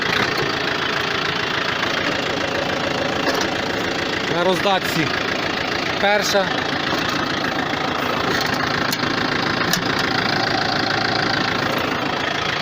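Japanese tractor engine running, heard from inside a loud cab with a rattling roof, a constant dense rumble throughout while someone speaks briefly over it.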